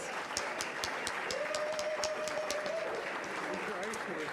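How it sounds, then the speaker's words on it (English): Applause from an audience at a charity fundraiser dinner, a steady wash of clapping with crowd whoops and a sustained whistle-like tone riding over it, continuing through the whole stretch. "Let's give them a big round of applause."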